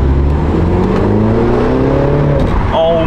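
A car engine revving hard at full throttle, a loud sustained roar with rising harmonic pitch sweeps, close and continuous, briefly shifting tone near the end as a passenger voice exclaims under it.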